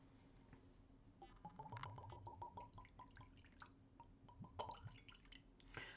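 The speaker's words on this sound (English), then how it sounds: "let's pour a bit out." Cassario 7-year Costa Rican rum trickles and drips into a glass, a faint, close, irregular splashing with small clinks, no talking over it.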